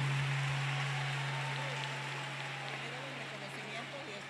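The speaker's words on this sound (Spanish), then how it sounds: "Fuerte el aplauso para el barrio Viaducto Esporcol" Crowd applause for the Barrio Viaducto Esporcol neighborhood at a Christmas lighting awards ceremony in Tumaco, a steady, dense wash of clapping under a low electrical hum that fades slightly toward the end.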